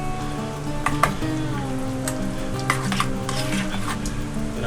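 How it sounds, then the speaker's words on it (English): Spoon stirring spice paste into a cup of mayonnaise in a bowl, soft wet scraping and squelching with a few light clinks against the bowl, close and steady with no talk. "I'm going to mix that with a cup of mayonnaise"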